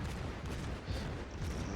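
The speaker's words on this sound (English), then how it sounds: "I am letting loose my guns" Naval gunfire from a Tier 5 Omaha cruiser in World of Warships, a quiet, continuous low rumble of distant artillery blasts running steadily with no clear gaps between shots.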